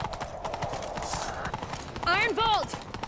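A horse in the video game The Witcher 3 clip-clops in a steady galloping rhythm while people talk over it, and a horse whinnies loudly near the end.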